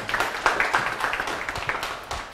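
An audience at an Indonesian business talk claps together, a dense steady patter of many hands close by that carries on without a break for a couple of seconds.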